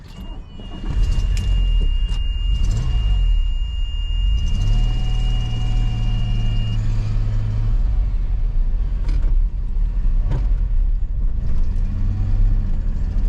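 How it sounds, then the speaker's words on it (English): A DeLorean drives along with a steady engine hum and rumble heard from inside the car, with shifting engine tones and a few clicks and knocks, and no talk. "So here I am being driven around by Ian in this amazing DeLorean"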